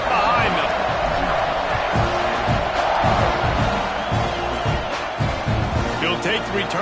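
Football stadium crowd roaring steadily before a kickoff in a Texas A&M versus Oklahoma game, a dense loud wall of cheering with whoops and a commentator talking over it.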